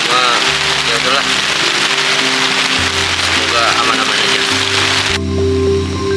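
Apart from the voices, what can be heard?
heavy rain at a riverside campsite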